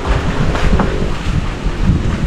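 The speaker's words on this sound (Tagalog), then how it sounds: "mukhang malakas yung bagyo na to. Kasang hangin eh." Strong, gusty typhoon wind roars and buffets continuously, with deep rumbling low end and no voices.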